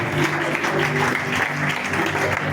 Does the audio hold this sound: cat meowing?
no